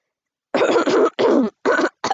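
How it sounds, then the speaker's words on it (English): Several loud, close coughs in quick succession, a short run of harsh bursts with brief gaps between them, from one person with no other sound around them. "I'm sorry, I keep coughing."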